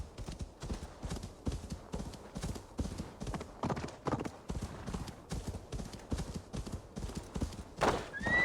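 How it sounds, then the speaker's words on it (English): Horse hooves clip-clopping in a steady walking rhythm in the Assassin's Creed Valhalla video game, with a whinny near the end, close and clear, and no talking. "And conveniently, my horse was just waiting for me."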